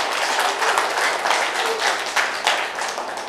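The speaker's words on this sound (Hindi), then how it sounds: "आप मेरे लिए तालियां बजा सकते हैं।" Dense, loud applause fills a Buddhist vihara gathering in Gondiya, a steady wash of many hands clapping together without pause.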